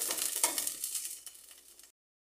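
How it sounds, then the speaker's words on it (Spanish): Chopped onion and garlic sizzle in a saucepan, a soft steady frying hiss with light stirring, fading out after a couple of seconds. "Vamos a sofreír nuestra cebolla y nuestro ajo."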